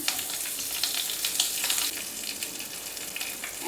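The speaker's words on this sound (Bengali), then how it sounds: "ভেজে নেব সবজিগুলো দিয়ে দিচ্ছি প্রথমে আমি কুমড়োটা দিয়ে দিলাম কুমড়ো আর সজনে ডাটা" Pumpkin and drumstick (sajne data) pieces sizzle steadily in hot oil with tempering spices for shukto dal, a dense continuous crackle with a few stirring bumps, no talking.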